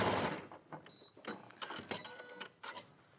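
A sewing machine stitches fabric pieces together in short, close mechanical bursts, its needle running in quick rhythmic runs separated by brief pauses.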